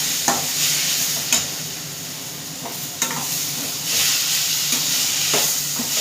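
Tomatoes frying in a pan and being stirred, a loud steady sizzle with repeated scraping strokes of the spoon every second or so, no voices.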